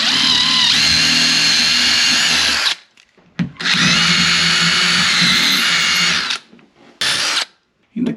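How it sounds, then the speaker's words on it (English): A power drill pre-drilling wooden boards for a closet shelf whines loudly in two long bursts with short pauses between, followed by a brief third spin, close up. "So I'm gonna pre-drill so I don't split my boards."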